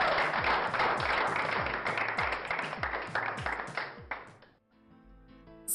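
A large audience applauds a crowned winner at a ceremony with dense, loud, sustained clapping. The applause fades out after about four seconds and gives way to quiet music.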